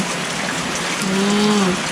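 Heavy rain pours in a steady, dense hiss close by, with a faint distant tone drifting through midway.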